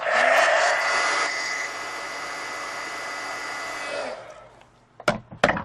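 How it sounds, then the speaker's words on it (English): A heat gun blows a loud, steady whooshing roar for about four seconds while drying marker ink on a colored page, then cuts off, followed by a few sharp knocks and handling sounds. "So I'm going to dry that here with the heat gun."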